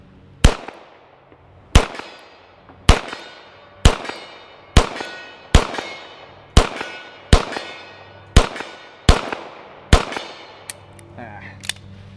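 Ten loud, evenly spaced pistol shots from a Beretta 92S, fired two-handed at steel targets 50 yards away, each crack followed by a ringing clang and short decay, with faint sounds after the last shot.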